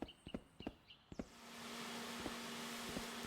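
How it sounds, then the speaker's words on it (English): A quiet electric leaf blower starts after a few soft knocks and handling clicks, then runs with a steady, gentle hairdryer-like whoosh and a faint hum, clearing fallen leaves. "it makes barely any noise. Honestly, it sounds like a little hairdryer"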